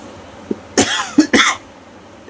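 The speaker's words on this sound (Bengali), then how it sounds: "এক মিনিটও ভাই কাশি বন্ধ নেই" A person coughs hard in two loud, close bursts after a small throat sound, with quiet room tone between.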